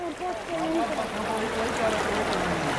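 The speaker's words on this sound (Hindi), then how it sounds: "हेवेल रिवर का पानी।" The Heval river flows near its confluence with the Ganga at Rishikesh as a steady, continuous rush, with people talking over it.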